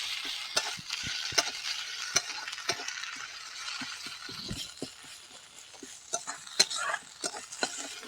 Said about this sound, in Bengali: আদা রসুন বাটা ভালো করে ভেজে নিয়েছি।